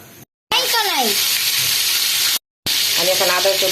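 Bay leaves and garam masala fry in hot oil with a loud, steady sizzle that fills the clip. Voices rise briefly over it, and the sizzle is cut by two short silent gaps.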